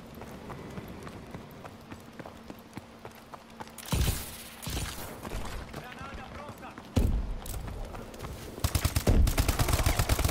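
Rapid bursts of gunfire in Call of Duty: Advanced Warfare crackle and pop repeatedly, growing denser and louder toward the end, mixed with background game noise and occasional talk.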